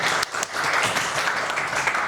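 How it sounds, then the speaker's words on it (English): A crowd at a board game talk show event applauds a guest being introduced, a dense, even wash of clapping that holds steady and loud for the whole stretch. "Give him a big applause"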